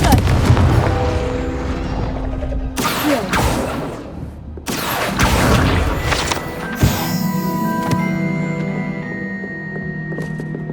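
A Confringo fire spell exploding in the Hogwarts Legacy video game: loud, dense booming blasts and crashes with whooshing bursts, one after another, followed by a lingering rumble and tonal hum, without any voice.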